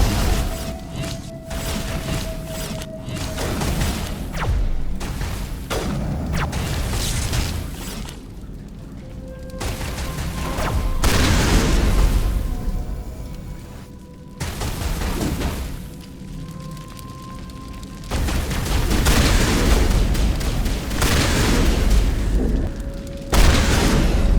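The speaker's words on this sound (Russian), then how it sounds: "какой же дробовик медленный" Shotgun blasts in the sci-fi shooter Mass Effect Legendary Edition, heavy booming shots spaced slowly several seconds apart amid game combat noise and background music, loud and close.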